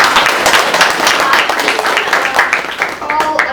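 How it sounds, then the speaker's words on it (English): Lively audience applause greets certificate recipients at a business networking event, many hands clapping densely and steadily with a few cheers and murmurs of the crowd mixed in. "Please give all of them a round of applause."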